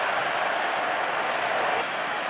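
Stadium crowd roaring at a UFL football game between the Michigan Panthers and St. Louis Battlehawks in St. Louis, a loud, steady wash of cheering noise throughout.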